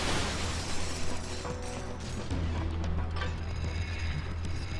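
Bolt crank mechanism turning in Ratchet & Clank Future: Tools of Destruction, a steady grinding, ratcheting mechanical churn with rattling clicks, loud and continuous with no talking.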